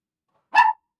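A pet puppy gives one short, sharp bark, close and loud, in an otherwise silent room.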